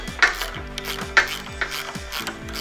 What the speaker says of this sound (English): we're going to loosen all the hardware